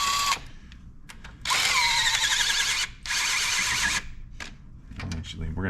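A small cordless power driver runs in two sustained bursts, whining at changing speed, while bolts are fastened during cylinder head reassembly on a 2014 Dodge Avenger 2.4L engine, with shorter taps and handling noises between bursts.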